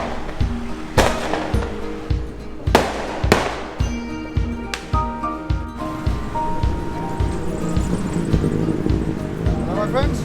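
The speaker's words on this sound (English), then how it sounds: "And there's fireworks going all the time." Fireworks bursting during a lantern festival in Chiang Mai, Thailand, sharp cracks and booms repeating every second or so over music and crowd noise.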